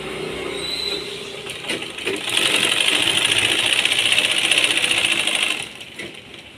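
A sewing machine stitches along a folded box-style neckline, a short start and then a steady, fast mechanical whirr of needle strokes for about three seconds before it slows and stops, close and alone.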